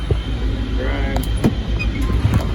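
A Ford 7740 diesel tractor runs while driving, giving a loud, steady low engine rumble throughout, with a few brief clunks and rattles and a person speaking over it.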